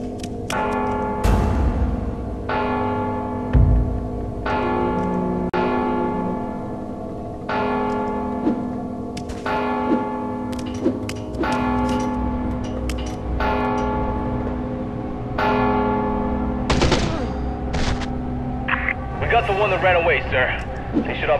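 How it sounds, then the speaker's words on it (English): A church bell tolls repeatedly in the game Mark of the Ninja, loud, evenly spaced strikes with long ringing decay across the span, with voices talking over it. "Don't you hear the bell?"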